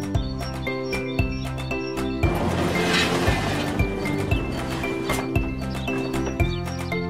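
A cartoon horse neighs over steady clip-clopping hooves, with cheerful music playing underneath and the rhythm of the hooves even and close throughout.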